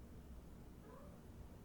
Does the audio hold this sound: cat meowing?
yes